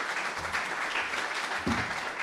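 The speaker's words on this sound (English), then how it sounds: "going to get another round of applause for Jack and Rachel Constantine" A small audience claps for Jack and Rachel Constantine at a game studio showcase event, a soft, fairly brief patter of applause heard from a moderate distance.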